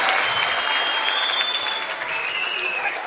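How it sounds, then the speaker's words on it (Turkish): Steady audience applause during a live show with a Barış Manço impersonation, dense clapping filling the whole stretch with some whistles over it and crowd noise underneath, no pause. "Alkış."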